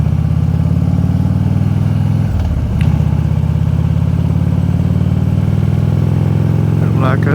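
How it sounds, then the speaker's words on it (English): Motorcycle engine droning loud and close on a ride, a steady low hum with a brief dip in revs as it downshifts, then settling back into the same throbbing note, with wind noise over it. "Whoa, downshift now."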